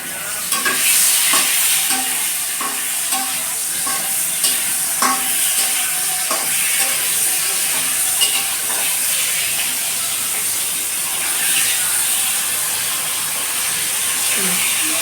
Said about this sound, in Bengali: আজকে রান্না করছে কই মাছ, শাক, পটল ভাজি।